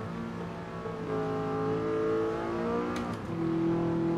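An Audi R8 race car engine in Gran Turismo 7 drones at a steady pitch, rises, then drops sharply as a gear shift cuts in and climbs again at a new pitch, loud and close with no talk.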